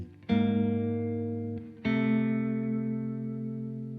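An electric guitar played through a reverb pedal on a pedalboard rings out in two sustained chords, the second struck after a brief pause and left to decay slowly with a lingering tail.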